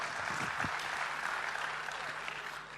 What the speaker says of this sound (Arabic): فتصفيقات حاره الحكام